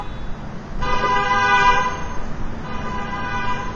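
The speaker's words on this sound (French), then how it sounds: "Les voitures klaxonnaient sans relâche." A car horn blares in a sustained honk for about a second amid road traffic noise, then trails off into the street hum.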